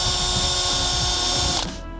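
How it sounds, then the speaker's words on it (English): A drill with an extender arm spinning a wire wheel on rusty bodywork of a Civic Type R EP3, a loud close whirring rattle that cuts off abruptly near the end. "you pull the trigger and then this spins here."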